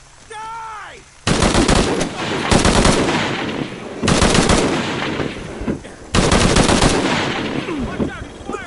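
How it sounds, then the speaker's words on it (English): Enemy gunfire in the video game Shadow of the Tomb Raider comes as loud, rapid automatic bursts, four long volleys of close machine-gun fire with short gaps between them. "Watch out, he's firing!"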